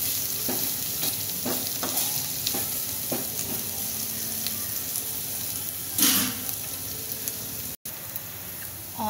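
Onions and curry leaves sauté in a pan for chilli paneer, giving a steady, close sizzle broken by regular scraping stir strokes and one brief louder burst near the end.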